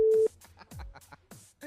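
A telephone line during a live radio broadcast gives a short steady tone of a busy signal at the start, followed by someone talking over faint line noise.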